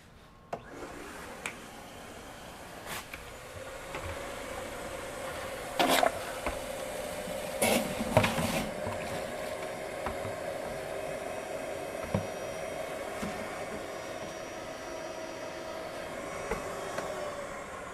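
A DeWalt 12-gallon Stealth Sonic wet-dry vacuum (DXV12P) whines steadily, slurping water with gurgling and rattling bursts as it draws the liquid in, the motor droning throughout.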